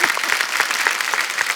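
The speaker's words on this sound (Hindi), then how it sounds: "जोरदार तालियां।" Studio audience applause on a Hindi comedy talk show, a dense, steady burst of many hands clapping, loud and even for the whole short stretch.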